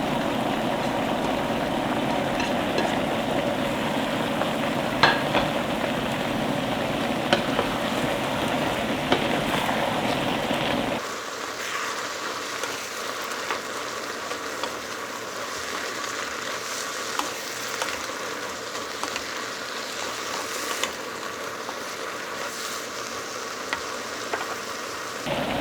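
Eggplant stir-frying in a pan with chili and green onion gives a loud, steady sizzle throughout. The sound grows thinner and hissier partway through as stirring continues.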